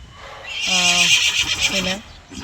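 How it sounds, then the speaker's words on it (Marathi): A horse neighs loudly nearby, two drawn-out whinnies one after another, set against background noise and a little distant hoof movement. "बघा घोडा किती वेळ झाला वरडायला लागला बिचारा"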